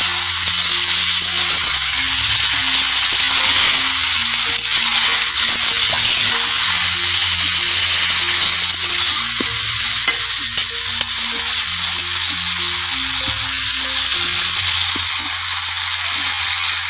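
Fried cauliflower and potato sizzle and crackle steadily in a pan over a wood-fired stove, a loud, continuous hiss with occasional stirring and a low tonal hum beneath.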